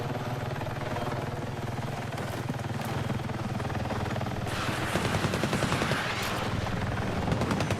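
Helicopter rotor in a video game, a steady loud thrumming drone that turns into a harsher, faster chop partway through, with bursts like distant gunfire mixed in.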